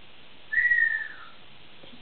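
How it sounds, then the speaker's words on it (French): An African grey parrot gives one clear, high, sustained whistle that slides slightly downward and lasts about half a second. A few faint taps and a small click follow in an otherwise quiet room. "Tu siffles."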